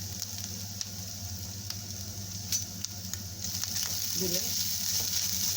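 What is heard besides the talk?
grated coconut frying in coconut oil in a pan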